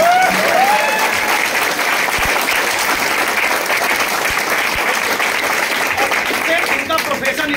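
Audience at a life-change training seminar clapping together in a sustained, dense round of applause, loud and close throughout, with faint voices in the background.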